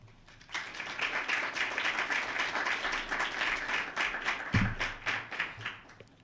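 Audience applause fills a room at a press event introducing a new head football coach at the University of Maine, steady dense clapping sustained for several seconds at moderate distance, with no speech over it.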